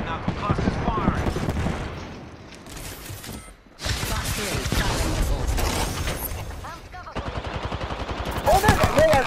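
Gunfire in an Apex Legends Arenas match, with bursts of shots running almost continuously under players' voice chat, loud and busy throughout with brief lulls.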